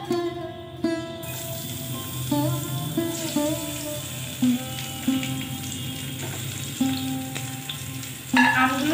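Panch phoron crackles and sizzles in hot oil on a low flame as mango pieces are added. A steady, close frying hiss with small pops runs the whole time, over faint tonal background sounds and no speech.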